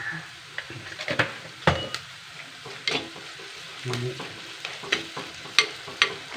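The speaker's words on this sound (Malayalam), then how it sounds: "ആ വഴണ്ട് വന്നു ഉള്ളി ഒന്ന് വഴണ്ട് വന്നു" Onions sautéing in a pan with turmeric and chili powder, sizzling steadily while a spoon stirs and scrapes against the pan in repeated clinks and knocks, close up.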